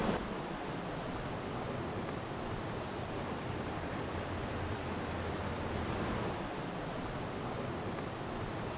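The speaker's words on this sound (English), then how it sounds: "it's really wide and it's really rushing water" A steady, broadband roar of a wide rushing river in Chitral, Pakistan, holding an even level throughout, with no voices and no breaks.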